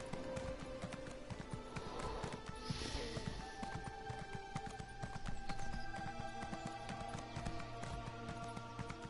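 Steady clip-clopping horse hooves in Elder Scrolls Online, a quick rhythmic run of taps layered over music and ambient game sound.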